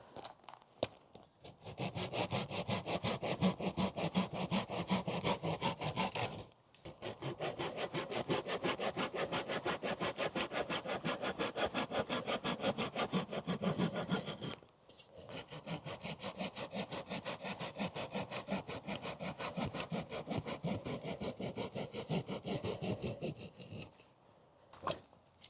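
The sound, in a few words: folding saw cutting dead wood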